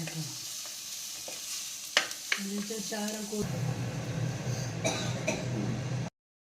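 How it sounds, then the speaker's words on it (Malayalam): Tomato sautés in a hot pan with a steady sizzle, punctuated by spatula knocks and scraping as it is stirred; the frying grows louder and fuller midway, then stops abruptly. "ഒരു തക്കാളി ഇട്ടുള്ള തക്കാളി ഇട്ട് ശരിക്കൊന്ന് വഴറ്റണം അല്ലേ?"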